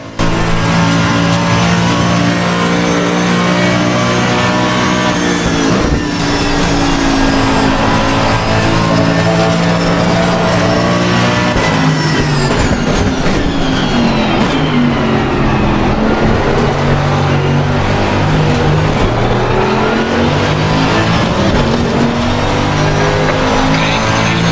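Race car engines at Suzuka in Assetto Corsa Competizione, including a Porsche, roar loud and close throughout a battle for fifth place, with rising and falling revs through gear shifts, and other cars are heard nearby.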